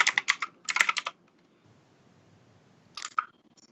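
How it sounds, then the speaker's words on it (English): Typing on a computer keyboard picked up by an unmuted microphone during an online class: two quick clusters of crisp clacking keystrokes, then near silence with faint room noise, and another short burst of keys near the end. "somebody has their microphone not muted and is typing"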